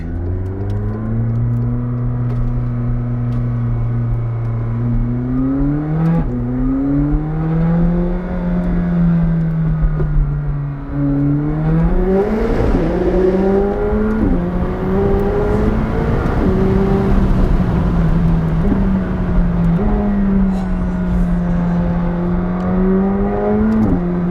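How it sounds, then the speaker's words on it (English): A McLaren 765LT supercar drives and accelerates hard, its engine note climbing through repeated rising revs with brief dips at gear changes, loud and close with a constant whirring drone and no talk. "Let's take this car for a drive."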